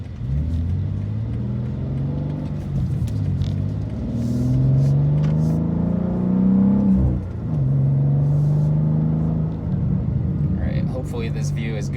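A 2024 BMW M2 with a manual gearbox pulls away and accelerates, its engine note rising in pitch through a gear, dipping at the shift, then climbing again. The rumble is loud and close, heard from inside the car, with a voice talking briefly.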